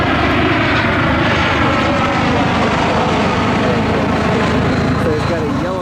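An inbound Spirit Airlines jet arriving from Atlanta in rainy, foggy weather at Cleveland roars loudly and steadily overhead, its broadband engine noise filling the scene without any talk.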